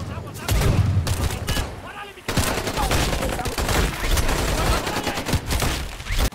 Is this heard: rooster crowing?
no